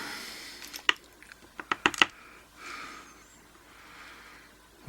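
Small metal lock pins from a West Coast Picks challenge lock are dumped out and scatter, giving a quick run of sharp, close clicks and light rattles over a couple of seconds.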